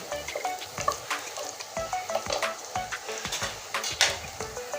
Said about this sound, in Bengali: কুচানো পেঁয়াজটা দিয়ে দেখুন পেঁয়াজটা এখন লাল লাল করে ভেজে নেব